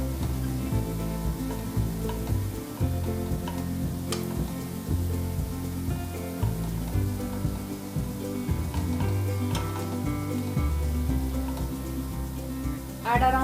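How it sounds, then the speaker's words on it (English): Brinjal slices frying in oil in a pan on low heat: a continuous soft crackling sizzle with some irregular low bubbling pops, steady and close, no talking. "Keep the flame on a low heat so that the brinjal is cooked properly."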